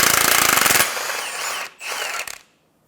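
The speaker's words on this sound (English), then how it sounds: "Using a 19mm wrench and socket, I'm going to hold the nut on the top while removing the bolt." A wrench and socket turn a control arm bolt on a 2014-2019 Toyota Highlander, giving a loud rapid ratcheting burst, a pause, then a second shorter run of clicks up close.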